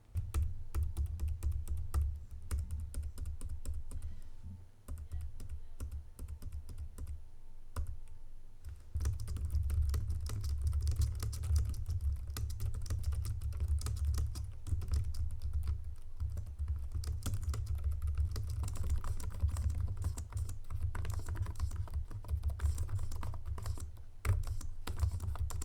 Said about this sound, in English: Here's a click test where I have the microphone placed very near the keyboard